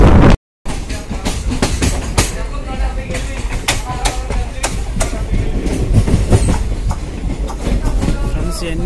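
Unreserved express train from Kachiguda to Medak running fast, loud rhythmic clatter of wheels over rail joints with rumbling carriage noise close throughout, after a brief dropout at the start; a voice murmurs faintly underneath.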